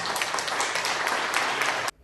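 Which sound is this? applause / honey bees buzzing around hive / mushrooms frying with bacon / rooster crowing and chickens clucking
applause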